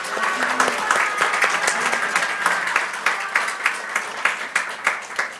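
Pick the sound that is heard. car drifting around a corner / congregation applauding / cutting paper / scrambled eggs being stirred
congregation applauding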